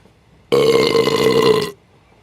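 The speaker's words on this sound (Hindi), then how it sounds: "नवाब साहब की ओर से भरे पेट के ऊंचे डकार का शब्द सुनाई दिया" A single loud, close burp from a man with a full stomach, one sustained belch of a little over a second with no talk around it.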